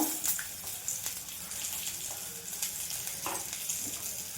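A bay leaf sizzles in hot oil in a Bengali kitchen, a faint, continuous crackling hiss with a few small pops, heard alone.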